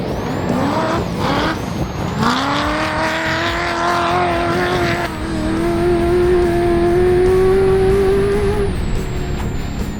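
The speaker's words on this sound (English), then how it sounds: "Drive it on the throttle. This is basically what I'd call the V8 supercar of off-roaders." A V8 off-road racing car accelerates hard through corners, its engine note climbing and holding a loud, steady roar for several seconds, with a high whine above it and a brief easing off near the end.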